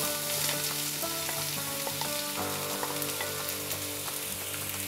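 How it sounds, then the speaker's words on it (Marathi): Onion fries in hot oil in a pan, crackling and sizzling loudly and continuously with busy popping and spatter, close up and with no voices. "हा कांदा छान मऊ होईपर्यंत तेलात परतून घ्यायचा आहे"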